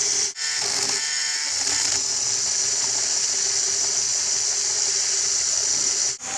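A small LEGO motor drives meshing gears on a spinning egg decorator, giving a steady, close, high-pitched whir with a faint rattling texture that runs almost unbroken.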